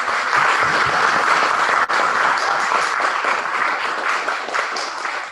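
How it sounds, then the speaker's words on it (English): Meeting audience gives a sustained round of applause, dense, even clapping from many people close by, lasting several seconds and tapering slightly at the end. "Give her a round of applause."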